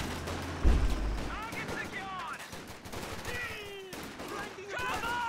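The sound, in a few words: Luchs firing at max range in Company of Heroes 2 video game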